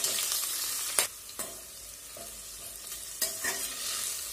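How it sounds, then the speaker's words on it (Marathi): Onion and green chili tempering fry in a pan, giving a steady close sizzle broken by a few sharp scrapes and clanks of a spoon stirring, with no talking. "आता थोडस लालसर होईपर्यंत ही फोडणी आपल्याला परतून घ्यायची आहे"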